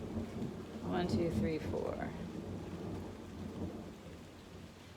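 Summer rainstorm with thunder: steady rain hiss with low rumbling thunder building and fading, while a voice counts aloud under the storm.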